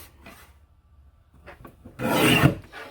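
A paper trimmer slices a strip of paper for a scrapbook page kit, giving one loud rasping cut of about half a second that follows quieter handling noises.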